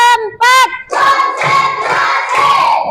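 Children in a primary school classroom clap in unison during a counting clapping game, a few sharp group claps under a teacher's sung and spoken prompts.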